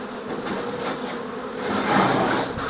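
Honeybees buzzing around a mini nucleus hive, a continuous close droning hum that swells a little louder toward the end, with no talk.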